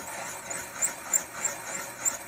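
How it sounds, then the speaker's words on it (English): Case trimmer cutting .357 Magnum brass to length, a faint hissing, scraping whir with a rhythmic squeak as the cutter turns, about five pulses in a couple of seconds. "Just trimming that extra brass off."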